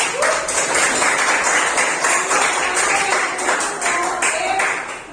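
Continuous clapping from a group in a classroom, dense and fairly loud, holding steady throughout with a faint voice underneath.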